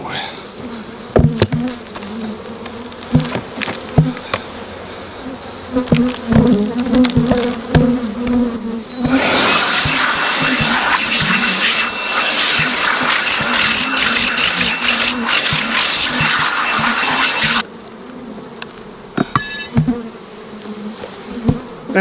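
Honey bees swarm around opened hive boxes during a honey harvest, a dense, steady buzz that swells loud and close partway through, with scattered knocks and rattles of equipment beneath.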